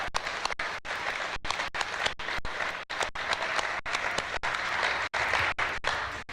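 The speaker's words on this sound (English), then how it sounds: "give the drummers a round of applause" Sustained applause from an audience for a group of drummers after a drum procession, dense steady clapping filling the room for several seconds without a break.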